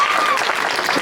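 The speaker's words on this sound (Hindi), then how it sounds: "तालियों की आवाज बहुत कम आई है।" A crowd at a patriotic memorial evening gives a brief, loud round of applause, heard close, with a short whistle-like tone at the start.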